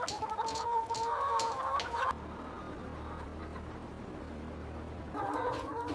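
Chickens on a farm cluck and chatter in short repeated bursts for a couple of seconds, then a lower steady ambient hum takes over before the clucking returns near the end; no talking.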